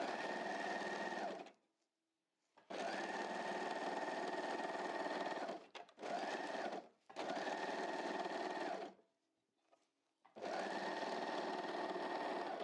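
A sewing machine stitches a garment seam in four quick, even runs with short silent gaps between them, close and clear with no talking.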